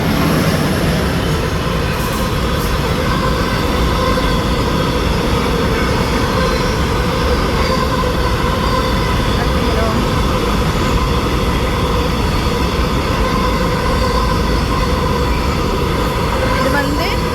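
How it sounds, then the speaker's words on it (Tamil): A long freight train in Zürich rolls past close by, a loud continuous rumble of wagons with wheels grinding and rattling on the rails, steady for the whole stretch. "இது வந்து சாமான் கொண்டு போகிற ட்ரெயின்."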